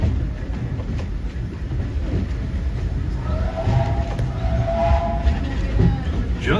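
The Disneyland Railroad train rolling along its track at the theme park: a steady, close rumble of wheels on rails with faint clacks and a brief metallic squeal partway through, while a voice talks.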